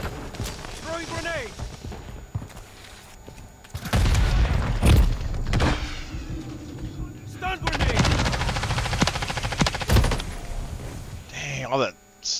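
Grenade blasts and gunfire in Modern Warfare 3 multiplayer: two heavy bursts of explosions and rattling automatic fire, each lasting a few seconds, break through quieter game ambience, with a voice talking in between.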